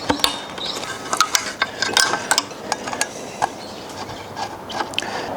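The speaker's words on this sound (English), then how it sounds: "we're just going to keep holding that in as we start to unscrew this Allen screw" Allen key turning the blade screw on a Bosch 165mm circular saw, a run of small metallic clicks and ratcheting ticks, close and fairly quiet, with no talking.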